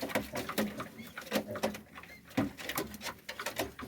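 A sick pigeon chick, found apparently dying, gives soft repeated cooing and peeping calls at close range, in short bursts with brief pauses.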